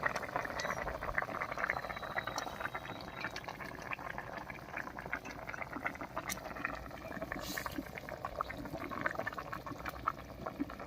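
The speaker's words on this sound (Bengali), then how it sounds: "বলক উঠে গেছে, এবারে ভেজে রাখা মাছগুলো দেব।" A pot of Bengali fish curry with potatoes and drumsticks simmers at a rolling boil, a soft continuous bubbling and popping with faint crackles, steady and fairly quiet throughout with no talking.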